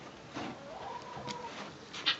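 Chickens cluck softly in a barn, a few faint, brief calls over a quiet room background.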